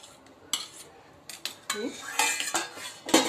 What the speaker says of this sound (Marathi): सुरीने असा सोडवून घेऊया थोडासा हलक्या हाताने